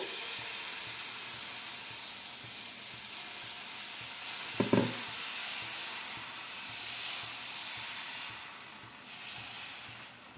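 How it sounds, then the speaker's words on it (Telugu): Crispy dosa batter made with poha and curd sizzles on a hot pan. A steady, loud, airy hiss carries on throughout, with a brief clatter midway. "ఇంకా దోశ అయితే వేసుకుంటున్నానండి"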